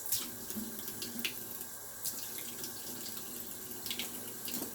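Tap water runs into a bathroom sink while face cleanser is rinsed off, a soft steady stream broken by splashes and drips as hands scoop water, fairly quiet and close with no talking.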